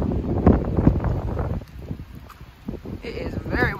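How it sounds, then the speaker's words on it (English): Gusty wind on the Appalachian Trail buffets the microphone in uneven rumbling bursts, loud and close, with brief rustling in between. "It is very windy out here today"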